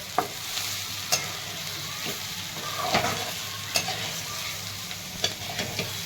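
Fried okra (bhendi) is stirred in a pan with a soft, steady sizzle, broken by several sharp scraping knocks of the spatula at irregular intervals, close by and with no talking.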